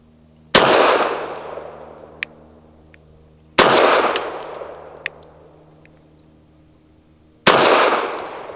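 A Ranger Arms RA9 pistol fires Fiocchi Defense Dynamics 147-grain rounds: three loud, sharp shots spaced a few seconds apart, each ringing out with a decaying echo, with faint clicks between them.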